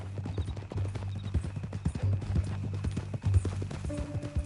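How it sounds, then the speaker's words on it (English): Horse hooves clop in a steady walking rhythm on hard ground in a video game, close and clear, with low hum and faint game ambience underneath. "That a new horse?"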